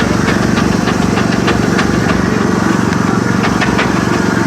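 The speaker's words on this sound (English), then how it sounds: "This is two-man sawing, so we call it double buck sawing" A steady, rhythmic rasping of a two-man crosscut saw bucking wood at an outdoor steam fair arena, with regular push-pull strokes over a constant low rumble.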